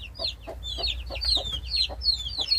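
Mother hen clucking softly as she herds Golden Brahma chicks, with the chicks' high peeps repeating in quick rhythmic bursts close by.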